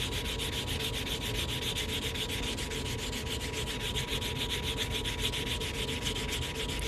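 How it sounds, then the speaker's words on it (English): A cut edge on a silver coin ring being filed and smoothed by hand, giving a steady, continuous rasping rub that stays close and even throughout, with no talking. "here we're just smoothing down this cut edge, making sure we file out any of those micro fractures"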